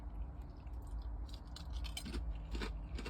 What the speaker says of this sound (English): You can't see me munching, but you can hear me crunching.